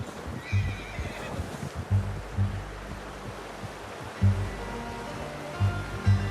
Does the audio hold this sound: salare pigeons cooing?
no